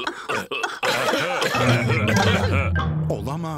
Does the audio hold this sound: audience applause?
no